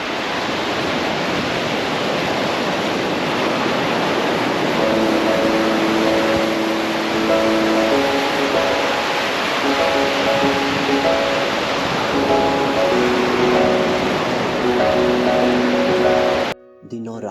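Waves washing onto a quiet North Goa beach make a broad, steady roar of surf that fills the whole stretch, with faint tonal background music running over it before it cuts off at the end.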